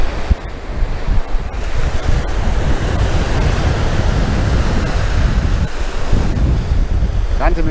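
Stormy sea at Jomtien Beach near Pattaya, with surf breaking and strong wind buffeting the microphone in a loud, continuous roar that swells and eases without pause.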